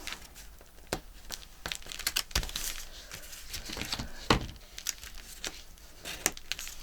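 Paper card being folded and creased for a bee-themed journal, close and quiet, with scattered soft crinkles, taps and scrapes in an uneven rhythm.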